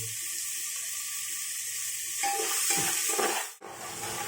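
Chopped onions with salt frying in a pan, a steady sizzle that turns busier and louder midway as they are stirred, with brief scraping clatter near the end; no one speaks.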